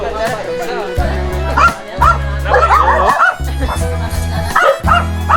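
Several dogs bark and yip repeatedly nearby in quick, overlapping bursts, with some whimpering mixed in and people talking underneath.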